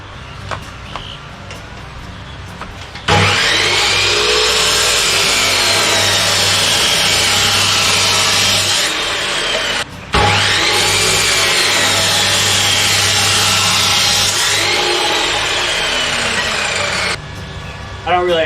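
Metal stock being cut for a gate pillar cage, two long, loud bursts of a power cutter grinding through steel with a brief pause between, preceded by quieter background noise.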